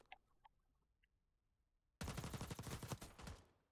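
GPR 91 rifle fired in a video game, a sudden loud burst of rapid automatic shots arriving after a quiet stretch with a few faint clicks, then cutting off.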